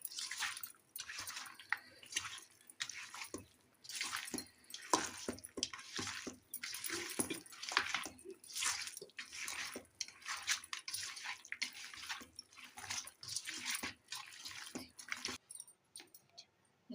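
One kilogram of chicken pieces mixed by hand with two spoons of yogurt, giving close, steady wet squelching and squishing that repeats throughout without pause.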